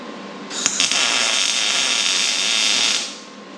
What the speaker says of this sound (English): you just put a little weld on each side of the tab